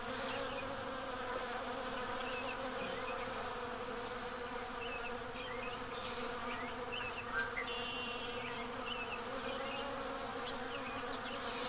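Steady, dense buzzing of many honey bees on flowers all around during the darkness of the April 8, 2024 solar eclipse, continuous and even, with faint chirps here and there in the background.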